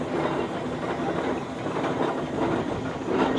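A 1925 Marshall steamroller, ex-Leicestershire County Council, rumbles along behind a small Garrett steam tractor at a steam rally, with a steady chuffing, clanking mechanical drone up close.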